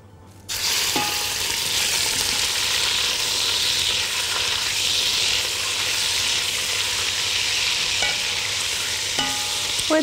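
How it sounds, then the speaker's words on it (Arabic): Lamb meat hits hot melted ghee and sears with a loud, continuous sizzle that runs steadily throughout, punctuated by a few light clinks of utensils, no voices. "وأول السمن ما تسيح هنحط اللحمة نشوحها"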